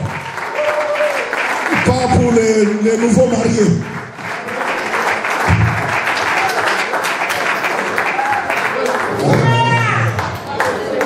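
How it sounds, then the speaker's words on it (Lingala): A church crowd at a 25th wedding anniversary celebration for a pastor and his wife breaks into loud, sustained applause and cheering in a reverberant hall, while someone speaks over a microphone between bursts. "Est-ce qu'on peut acclamer très fort pour Jésus"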